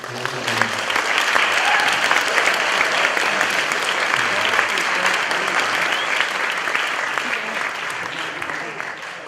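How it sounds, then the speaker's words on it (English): A festival audience at a poetry reading breaks into dense, sustained applause, a loud even roar of many hands clapping for about nine seconds, with faint crowd murmur beneath. "let's just give Adam and Amy one more round of applause"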